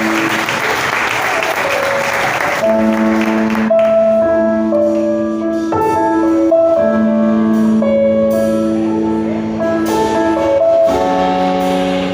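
A congregation at an evangelical worship conference applauds loudly and steadily, and sustained keyboard chords soon swell in under the clapping.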